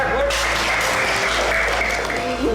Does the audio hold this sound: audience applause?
yes